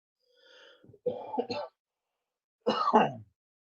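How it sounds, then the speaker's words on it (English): A man coughs and clears his throat several times after straining his voice, with short dry bursts in two clusters separated by a brief silence, close and fairly loud. "I'm coughing because I'm trying to do a voice that I really probably shouldn't be trying."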